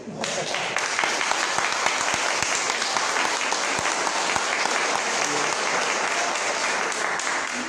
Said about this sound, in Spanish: Espero que los aplausos sean fuertes.